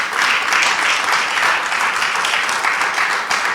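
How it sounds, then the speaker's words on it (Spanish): Steady, dense applause from a church congregation during a worship service, loud and sustained throughout with no pauses. "Dale un aplauso al Señor"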